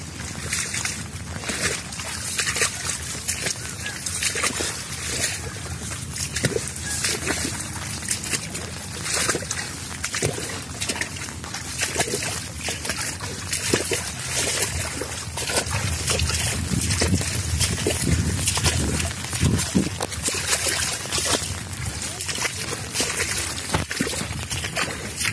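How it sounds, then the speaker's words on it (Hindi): Steady rain patters onto standing water in a flooded millet field nearby, a continuous hiss with small splashes and trickles. "अभी देख रहे हैं अभी भी बारिश हो रही है।"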